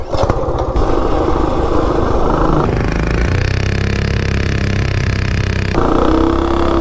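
Coleman RSV mini bike engine revving hard and steadily on a test run, a loud, close, buzzing small-engine drone whose pitch climbs and holds with no gaps.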